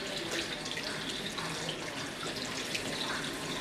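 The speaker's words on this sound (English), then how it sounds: "Turn off the water." Water runs steadily from a tap while hands are rinsed at a sink, a constant close hiss and splash with no break.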